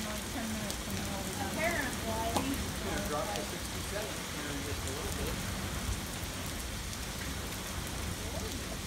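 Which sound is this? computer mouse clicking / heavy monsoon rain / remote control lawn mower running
heavy monsoon rain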